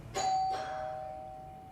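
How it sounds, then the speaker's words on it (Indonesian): A doorbell rings once with a clear two-tone ding-dong, the tones ringing out and fading slowly over a quiet background. "Tiba-tiba ada yang ngegedor bel."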